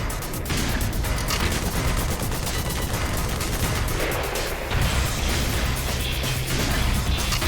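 Helicopter machine gun fire in the video game Black Mesa, a dense, continuous roar of rapid firing that stays loud and unbroken throughout, with heavy low rumbling beneath it.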